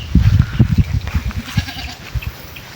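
Goats bleating on a rural farm, a series of close, loud calls in quick succession with no talk over them.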